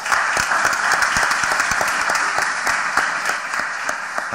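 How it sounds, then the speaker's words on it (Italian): Steady applause from a conference audience, many hands clapping evenly and fairly close for a few seconds with no talk over it. "Beh, io un applauso lo farei."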